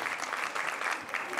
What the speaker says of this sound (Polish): Brawa, jeszcze proszę dla...